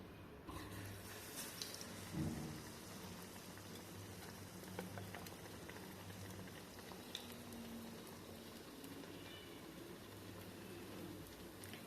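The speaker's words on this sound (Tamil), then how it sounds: "இப்போ ஆயில் நல்லா சூடாயிடுச்சு. இப்போ இந்த பஜ்ஜியை சுட்டு எடுத்துடலாம்." Slices of ripe Nendran banana coated in batter fry in hot oil in a kadai, giving a steady, faint bubbling crackle like light rain that runs throughout with no talk.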